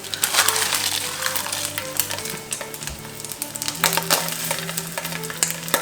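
Teriyaki-glazed food sizzles and crackles steadily in a hot pan, close and continuous, with light scraping and tapping of utensils scattered through it.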